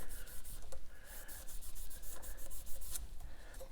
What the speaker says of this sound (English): I don't even know why I'm polishing these frets.